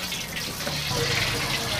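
Cooking oil pours onto a hot tawa in a kitchen, giving a continuous, fairly loud hissing rush that holds steady for the whole moment.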